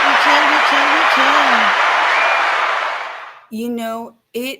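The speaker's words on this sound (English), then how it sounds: "Can we get an applause for the Uh, team, yeah, please?" A crowd applauding the team at the CPX 2025 Americas event in Las Vegas, a loud steady wash of clapping that fades out, with a voice speaking over its start and again once it dies away.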